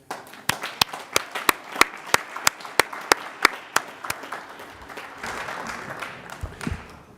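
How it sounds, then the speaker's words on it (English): Applause at a school district board of trustees meeting honoring students' parents: a steady run of sharp, evenly spaced claps over a softer crowd patter, fading into diffuse clapping and room noise near the end. "Can we give another round of applause for the parents that have supported these students in their activities?"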